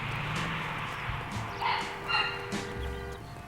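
A dog barks in the video game LA Noire Remastered, a few faint, distant barks that rise briefly over a steady ambient rumble and other game sounds.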